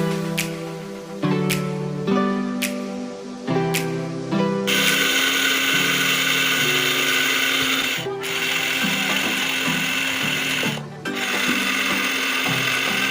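A small electric mini grinder labours through hard rice grains, running loud and continuous with a harsh, rattling mechanical whir after a few short bursts at the start.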